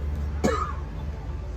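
A single short cough bursts out over a steady low background hum, brief and fairly close.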